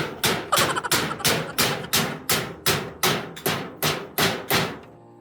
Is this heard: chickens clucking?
no